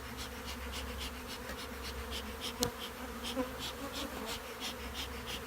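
Honey bees buzz steadily around a hive during a spring colony cleanup, a dense, continuous drone close by with individual bees passing near, no talk.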